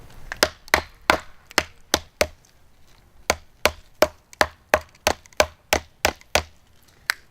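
A Mora Companion knife is driven through wood by repeated blows from a cut-off baseball bat: sharp, loud wooden knocks in two quick runs of about six and eleven strikes, each ringing briefly, with no talking.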